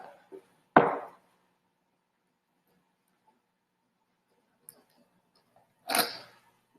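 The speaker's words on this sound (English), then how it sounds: "Now I'll take this off and I'm going to cut the marks that I made" Wet clay slab being cut along traced marks for a folded slab mug, two short separate scraping cuts, fairly close, with quiet pauses between them.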